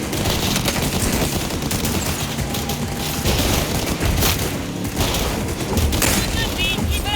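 A video-game firefight in Cyberpunk 2077: Phantom Liberty, with dense rapid gunfire bursts and heavy booms rattling almost without pause, loud and busy, a voice talking over the shooting.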